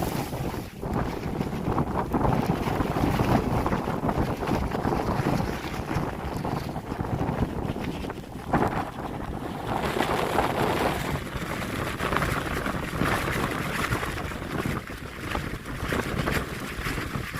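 A strong easterly storm wind pumps across the St Lucia Estuary during a storm surge, roaring and buffeting the microphone constantly with gusty surges and faint water wash underneath, no voices.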